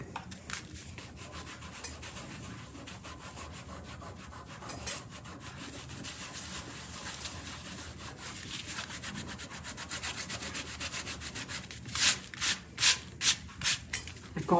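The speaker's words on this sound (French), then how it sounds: "Je continue à frotter. Au besoin, j'ajoute un petit peu d'eau sur mon doigt." A finger rubs away wet paper from an image transfer, making soft, close scratchy rubbing strokes that turn louder and more rhythmic near the end, with no talking.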